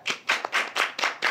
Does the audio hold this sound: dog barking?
no